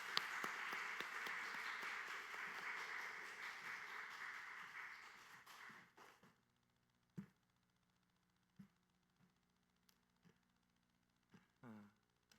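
A church congregation at a Wednesday worship service applauds to welcome the preacher: a full burst of clapping for about six seconds that fades out, followed by quiet with a few scattered knocks and thumps.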